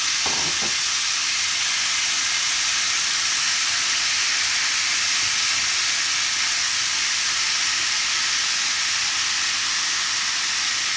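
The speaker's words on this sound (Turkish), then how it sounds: "Ardından etlerimizi tavamıza döküyoruz." Strips of meat poured into a hot pan for a sauté, a loud, steady, close sizzle and hiss of frying that spreads at once after a brief clatter at the start and carries on unbroken.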